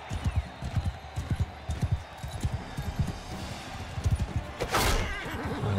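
Horse hooves clip-clop in a quick galloping rhythm in the medieval battle game Mount and Blade 2 Bannerlord, with a burst of clashing noise near the end and faint talk underneath.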